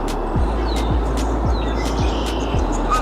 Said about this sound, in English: here's one, a red-winged blackbird